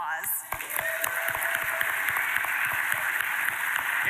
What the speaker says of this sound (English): we wanted to ask everyone here to give yourselves a round of applause